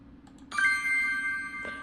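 A synthesized number-up chime made on a Korg Wavestation, one bright bell-like tone that starts abruptly and rings on with a sustained shimmer before a second soft accent near the end, heard alone.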